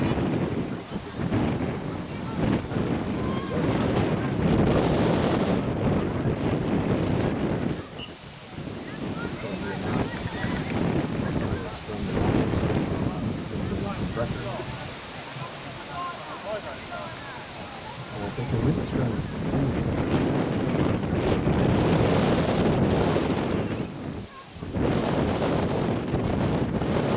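Strong gusty wind batters the microphone at an outdoor rugby match, roaring loudly in surges and briefly dropping away, while voices talk faintly underneath.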